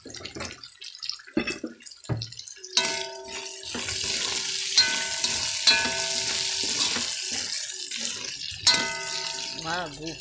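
Onions frying in a pan for a spaghetti dish, a steady sizzle filling the middle of the clip, broken by clinks and scraping, with brief voices near the start and end.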